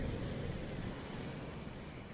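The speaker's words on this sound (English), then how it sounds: "There's another two big waves coming there now." Big ocean waves rolling toward a shoreline at a seascape, heard as a continuous loud wash of surf and roaring water mixed with wind buffeting the microphone, with no talking.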